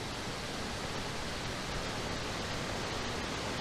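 The Richmond waterfall in North Yorkshire running in full flow, a dense, unbroken roar of rushing water filling the whole clip at a steady level with no voices.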